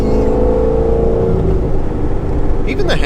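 A cammed manual C6 Corvette Z06 pulls away uphill, its engine droning loud and steady close by, with a lumpy low rumble throughout and a rising note near the end.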